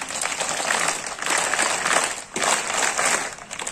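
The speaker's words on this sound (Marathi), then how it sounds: "सचिवांसाठी टाळ्या वाजवा." Hall audience clapping for the secretary, many hands applauding in a thick continuous roar that surges in several bursts, close and loud, with no voices.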